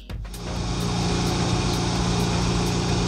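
A car engine idles steadily with a low, continuous hum, its revs shifting slightly as the air conditioning engages and the cooling fans run.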